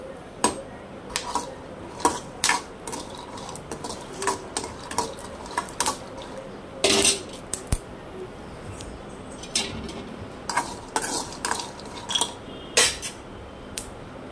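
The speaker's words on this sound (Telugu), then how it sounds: "ఈ విధంగా దోరగా వేయించుకోవాలి పల్లీలు" Peanuts dry-roasting in a pan, stirred with a metal spatula, giving irregular sharp clinks and scrapes against the pan with rattling nuts between them, close and moderately loud, with no voices.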